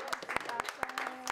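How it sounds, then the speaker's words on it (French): Applause at a state diploma ceremony, with short irregular bursts of clapping heard fairly faintly and mixed with speech-like sounds through the brief moment. "Des applaudissements bien mérités pour ce diplôme d'État"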